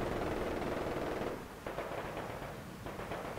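A heavy machine gun fires long, rapid bursts in a Company of Heroes 2 battle, loud and dense, with a short lull before it resumes, no voices over it.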